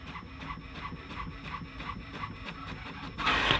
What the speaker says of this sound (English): here it is printing out